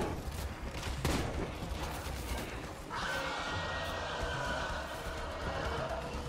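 Rapid bursts of video game gunfire crackle close up while players talk over the shots, the firing sustained as a magazine empties.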